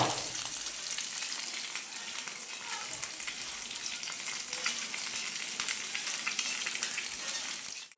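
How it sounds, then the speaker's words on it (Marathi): Tilapia fish pieces coated in semolina fry in a pan with a steady, close, continuous sizzle and crackle, with a few faint stirring or shifting sounds and no talk, cutting off abruptly at the end. "आता इथं आपल्याला मासे फ्राय करायचे"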